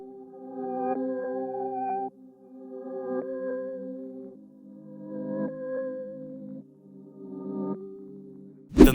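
A mellow, filtered melody from a resampled vintage synth plays in sustained chordal phrases, each note held then changing, with a sharp burst at the very end.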